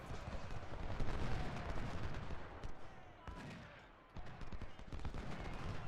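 Massed musket volleys crash through a Civil War battle in Ultimate General: Civil War as a brigade fights in melee, a dense, continuous roar of rifle fire with no clear breaks, loud and close throughout.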